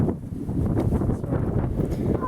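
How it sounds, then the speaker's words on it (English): Rough, blustery wind noise from gusts near 40 miles an hour buffets the microphone in uneven gusts, a low rumbling roar over a couple of seconds. "It's super windy today."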